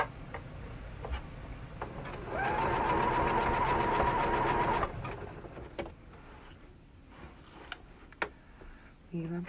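A sewing machine run by foot pedal whirs steadily for about two seconds amid quieter ticking and handling noises, then stops, with a person talking softly around it.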